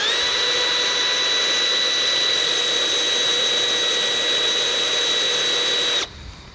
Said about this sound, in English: we're then going to make a pilot hole